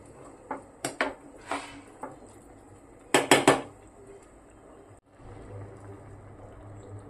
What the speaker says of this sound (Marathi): तर आपल्याला हे सगळे मसाले भाज्या सगळं छान मिक्स करून घ्यायचं आहे